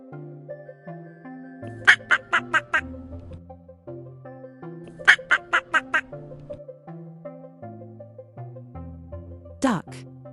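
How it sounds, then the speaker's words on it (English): Duck quacks in a quick burst of four or five calls, repeated twice, over a bouncy children's music backing, followed by a sharp swooping squawk near the end. "Duck."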